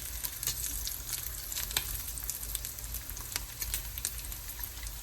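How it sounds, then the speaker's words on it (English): Bacon frying in a hot pan gives a steady, close sizzle with scattered pops and crackles, continuing alone with no voices. "once you have the heat going good and the bacon is starting to cook"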